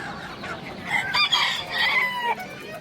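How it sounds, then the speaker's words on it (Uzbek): Roosters and hens at an outdoor poultry market, with one loud nearby rooster crowing and hens clucking over market background noise. "Xo'roz tovuqlar"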